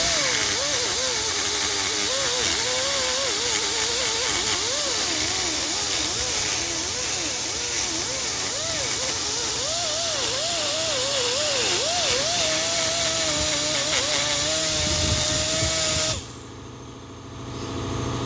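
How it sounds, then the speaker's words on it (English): An air compressor runs in a workshop where a small block Chevy aluminum intake is being cleaned for TIG welding, giving a steady loud hiss with a wavering motor tone for about sixteen seconds before cutting off abruptly. "And the air compressor will be running."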